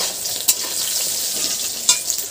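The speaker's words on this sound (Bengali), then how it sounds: "চিংড়িগুলো এবারে ভাজবো, আলু ভাজা হয়ে গেছে, পটল ভাজছি" Pointed gourd (potol) fries in a pan with a loud, close, continuous sizzle, broken by a couple of sharp stirring clicks as the pieces are turned.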